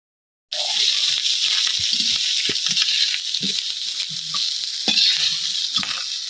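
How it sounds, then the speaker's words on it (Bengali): Cumin and spices sizzle loudly and steadily in hot oil in a home kitchen, starting abruptly and holding a constant close hiss, with faint stirring clatter underneath. "জিরা সম্বা দিয়ে দিতেছি"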